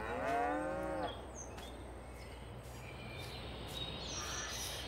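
Cows mooing in the farming video game Farming Simulator 22: one clear, low moo up close at the start, then a quiet ambient background with faint, scattered bird calls.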